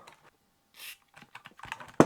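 Keys pressed on an Amiga 1000 keyboard that has faulty, non-registering keys: scattered close clicks and short bursts of tapping with silent gaps, ending in one sharp loud press, with no voices.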